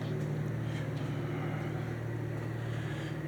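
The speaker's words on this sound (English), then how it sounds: "You can probably hear the tractors scraping the ground, grading it properly." Tractors scraping and grading ground for landscaping outside a workshop, a steady low engine drone heard from indoors, continuous and moderately distant with no pauses.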